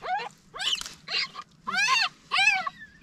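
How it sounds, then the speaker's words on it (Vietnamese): Puppies whimper from close by on an island at Trị An Lake, with a series of high, rising and falling whines repeated in short bursts over a faint low background hum. "Còn nghe tiếng chó con kêu mọi người"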